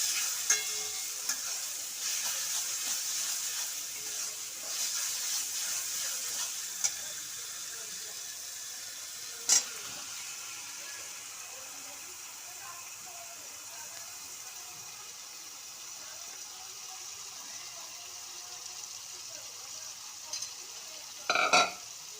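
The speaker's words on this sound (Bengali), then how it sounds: "এবার আমি এই ম্যারিনেট করা চিকেনটা মশলার মধ্যে দিয়ে দেব।" Marinated chicken frying in spice masala for chicken kosha, giving a continuous hiss with occasional stirring scrapes and a sharp knock near the middle. It is close and fairly quiet, with no talking.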